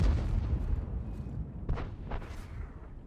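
A few muffled, heavy booms from artillery shells hitting in World of Tanks roll over a low, continuous rumble, spaced irregularly and moderately loud.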